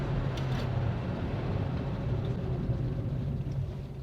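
A car called The Princess on its first test drive, pulling strongly: a steady low engine and road rumble from inside, constant and fairly loud with no talk over it.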